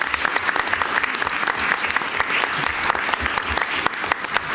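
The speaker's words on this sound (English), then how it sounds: "So can we give a round of applause to them?" A school board meeting audience gives a round of applause for National Merit Scholars, a steady dense clapping from many hands that holds throughout, fairly close and loud.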